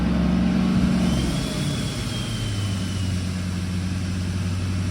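An engine held at about 2,500 RPM with the exhaust brake engaging roars loud and close; partway through, its note drops and settles into a deeper, steady drone, with no voices.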